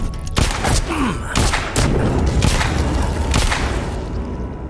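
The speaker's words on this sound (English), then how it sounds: "That's a lot of gunfire going on." Rapid bursts of gunfire crack and thud repeatedly over a dense, noisy soundscape in the video game The Walking Dead: Saints & Sinners, with several sharp reports spread throughout.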